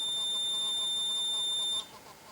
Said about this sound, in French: Normalement ça doit biper en permanence.